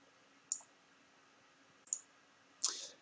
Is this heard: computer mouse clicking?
yes